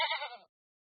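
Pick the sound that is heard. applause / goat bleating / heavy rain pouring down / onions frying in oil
goat bleating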